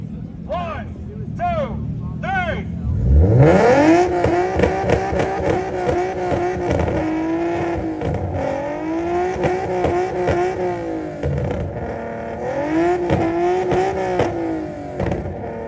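A Nissan 370Z at a tuner car meet revs hard and accelerates through the gears, its engine note climbing and dropping loudly and close for several seconds, with people shouting nearby.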